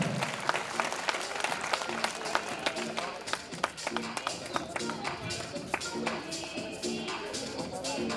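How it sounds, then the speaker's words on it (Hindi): Students and audience in a school hall clap loudly and steadily for a girl student, a dense round of applause with scattered individual claps standing out, with some talk mixed in. "एक बार जोरदार तालियों से स्वागत करें।"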